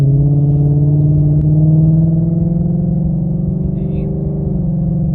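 Ford Mustang S650 with its active exhaust set to sport mode, heard from inside the cabin: a steady, loud low engine drone that cruises and shifts gently in pitch, with no talking.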